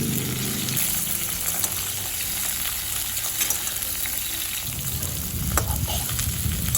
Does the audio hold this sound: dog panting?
no